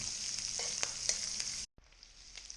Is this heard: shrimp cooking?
yes